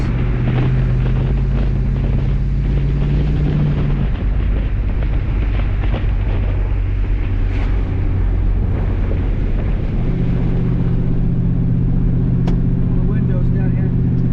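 LS-swapped Chevrolet S10 Xtreme pickup, originally a 2.2-liter four-cylinder, accelerating hard from overdrive with a kick-down, a loud low engine roar with rising tones that briefly break off before the drone resumes, over heavy wind noise, with someone talking.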